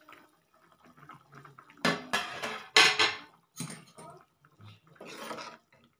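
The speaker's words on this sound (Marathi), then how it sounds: "झाकण काढूया." A lid is lifted off a pot of cooking mushrooms, making several close metallic clanks and scraping clatters in quick bursts, with brief quiet gaps between them.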